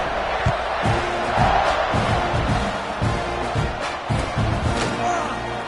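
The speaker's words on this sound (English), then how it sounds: "You think this crowd's going to get loud when their defense comes on the field?" A college football stadium crowd roars during a kickoff, a dense, sustained wall of cheering and shouting with scattered thumps and whoops, loud and continuous throughout.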